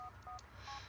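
Phone menu beeps in the video game GTA IV: three short, clear dialing-style tones spaced evenly over a second, alone over a low game hum.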